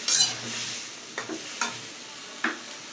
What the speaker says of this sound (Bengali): আর এখানে কেটে রাখা যে টমেটো এটাও দিয়ে দিব, দিয়ে নাড়াচাড়া ভালো করে করে একটু কষানো হয়ে গেলেই